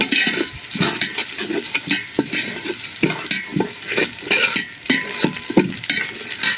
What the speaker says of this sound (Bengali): এখন দিয়ে দেবো কিছু গোটা মশলা, তেজপাতা, লবঙ্গ, দারচিনি, এলাচ দিয়ে আর একটু ভেজে নেব।